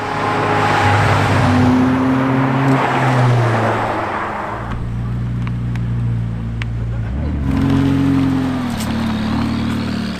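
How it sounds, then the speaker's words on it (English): Supercars driving on a road in Hong Kong, a loud engine drone with harmonic tones that rise and fall, continuous over about ten seconds, with a brief dip in the middle before revving up again. "supercar owners get together at different remote spots of the island and they take their cars for a spin"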